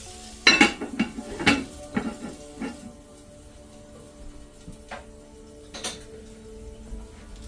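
Metal clinks and clatters of a crock pot lid on a 12.5-inch Stargazer frying pan cooking smash burgers, a burst of knocks early on, then sparse light taps over a faint hum.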